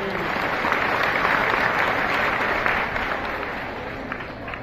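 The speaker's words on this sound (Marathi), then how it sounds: "देवेंद्रजींच्यासाठी एकदा शेवटच्या टाळ्या वाजवा." A crowd at a BJP political rally applauds Devendra Fadnavis, with sustained, dense clapping at a steady level that fades slightly toward the end.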